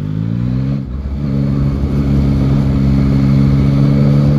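A 2021 Yamaha MT-09 motorcycle ridden gently through town, its engine holding a steady, loud, close drone with a brief dip early on before settling into an even low hum.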